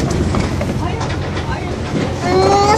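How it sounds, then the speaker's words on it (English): Train rolling along the rails heard from inside a carriage, a continuous loud rumble with faint rhythmic clatter and a rising whine near the end, while people speak over it. "You're on the train?"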